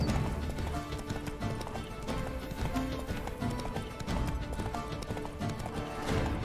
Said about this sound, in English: Whoa there, Roach. I don't think I had it. Not so fast, Roach